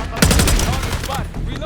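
Gunfire in Call of Duty Black Ops, a loud close burst of rapid automatic shots with booming low end, followed by scattered further rounds and faint game voices.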